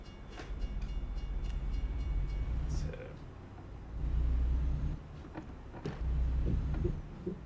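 A freight train rumbles past a crossing with low, heavy rolling noise that swells and fades in waves, heard from inside a truck with faint clanks.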